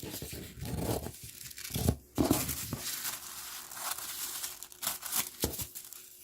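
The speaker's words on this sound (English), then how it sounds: "fold it and make a triangle, and then trim this excess side off" Scissors trim the excess edge off a folded paper triangle during a flower-model craft, giving close crinkling and snipping rustles in uneven bursts with short pauses, no talk.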